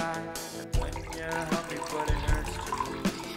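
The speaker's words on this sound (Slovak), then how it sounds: "Nalejeme do pohára vodu." Water is poured into a glass for a model heart made with a balloon and straws, a continuous close bubbling pour with a few gurgles and clinks.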